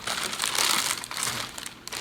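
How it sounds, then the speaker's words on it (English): Yarn packaging crinkles and crumples up close and loud, in a dense unbroken burst of crisp plastic rustling that eases slightly toward the end. "I'm sorry for all the crinkling."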